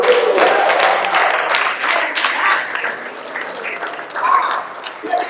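A live audience at a Juneteenth open mic poetry event at the Windsor Art Center claps and pats in steady applause, dense and continuous throughout, with some voices and a few brighter tones mixed into the crowd noise.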